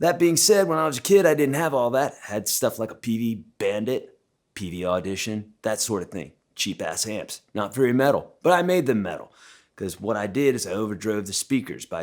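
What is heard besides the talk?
No everyday noises stand out.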